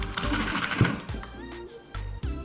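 A Salad Master food cutter machine chopping onions whirs and clatters close by in a kitchen, a steady mechanical rattle with brief pauses and restarts.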